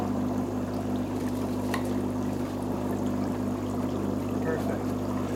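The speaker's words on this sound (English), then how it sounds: "You want it right in the middle where there's the most oxygen bubbling." Air bubbles churn continuously through water in a compost tea brewer holding sugar and bacteria, a constant close gurgling wash with a low hum underneath.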